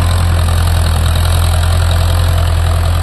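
A Farmtrac 6055 tractor of 55 horsepower running with a dozer on farmland, a loud, steady low diesel throb with a faint knocking pulse, close by and unbroken.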